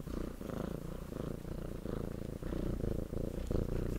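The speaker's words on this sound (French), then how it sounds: "Tiens, on ronronne dans le micro, va." Cat named Titi purring right into a microphone, a continuous low rhythmic rumble with slight pulsing, close and steady, no talking.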